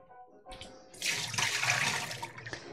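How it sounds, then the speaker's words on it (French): Tap water running into a kitchen sink while a utensil is rinsed, starting with a few splashes and then flowing steadily and close by, with a brief clunk near the end. "On n'hésite pas à rincer 2-3 fois."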